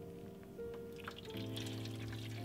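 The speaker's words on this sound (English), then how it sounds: "Beat this mixture until smooth and pour into individual custard cups for baking" Custard mixture being poured into individual custard cups makes a soft, thin trickle that comes in brief close runs, faint and alone in a quiet kitchen.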